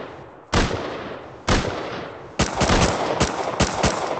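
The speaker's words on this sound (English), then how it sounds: "Whose turret is that, and why is it shooting me?" An automated turret in the survival game Rust firing at the player: four loud, close bursts of rapid gunfire separated by short gaps, the later bursts longer and choppier.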